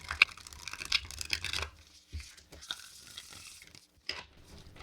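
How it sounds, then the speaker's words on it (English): Aleister Crowley tarot cards being bridge shuffled, a close, crisp burst of riffling card edges followed by softer scattered taps and a short cascade as the deck settles. "So let's see how it bridge shuffles."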